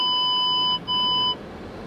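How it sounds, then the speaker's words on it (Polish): A car's parking sensor gives two steady, shrill electronic tones, a long beep followed after a brief gap by a shorter one, loud and close inside the car. "te czujniki. Czasem tak straszą, pokazują, że ktoś jest blisko, a ktoś jest daleko."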